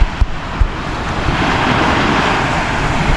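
Strong northeast wind rushing over rough open sea with a constant roar of surf, a couple of brief thumps at the start, loud and unbroken.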